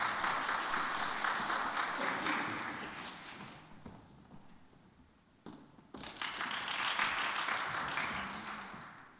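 A chapel congregation clapping loudly to welcome a pastor to the pulpit. The applause fades out midway and then swells back up again.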